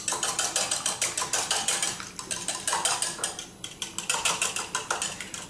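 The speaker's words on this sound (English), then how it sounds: "we're going to lightly beat those with the whisk" A metal whisk beats eggs lightly in a bowl, producing fast, rhythmic clinking and scraping strokes close by, continuous with a brief easing midway.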